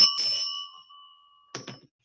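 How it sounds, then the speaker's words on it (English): A meeting bell rings clearly twice, the first strike ringing out for almost a second and the second a shorter, brighter ding, close and loud on an online meeting call. "To commence the meeting, I will ring our bell."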